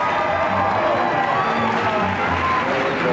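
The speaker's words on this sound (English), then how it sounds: "can we give them a big round of applause for being good sports?" Studio audience at a daytime talk show applauding, a steady, dense wash of clapping with some crowd noise and a few voices underneath, continuous and fairly loud throughout.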